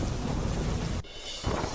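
Heavy downpour with thunder, a loud rumbling roll over dense rain that drops away suddenly partway through, leaving a brief quieter hiss of rain before it surges back.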